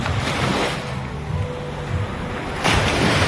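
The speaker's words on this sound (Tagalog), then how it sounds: "Hindi naman kalakihan yung mga alon" Small ocean waves at Binogawan Beach in Eastern Samar wash and roll ashore in a loud, close, continuous surge, with wind buffeting the microphone.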